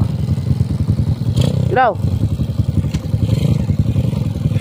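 Motorcycle engine running on a trail, a chugging mid-pitched putter under close talk, with a clatter and a brief rising whine partway through.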